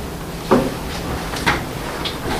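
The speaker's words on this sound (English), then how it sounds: "Rise, one knocks." During a staged Romeo and Juliet scene, someone knocks on a door with a few separated, muffled thuds that sound moderately near against quiet room tone.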